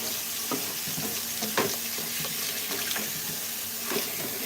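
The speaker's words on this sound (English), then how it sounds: "So now, rinse a little bit, just so that it's not a nightmare to clean. Rinse our bowl." A bowl coated in brownie batter is rinsed under a running kitchen tap, steady water hiss with splashes and light scraping knocks against the bowl, close and continuous.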